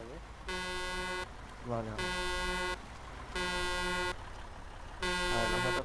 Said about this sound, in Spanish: Pero el claxon, me quedo sordo de eso, tío